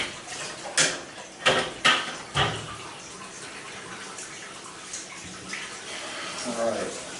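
Rinse water splashes and runs while a baritone or tuba is cleaned, with a few sharp clanks and knocks of the brass early on, then a steady, quieter trickle and wash.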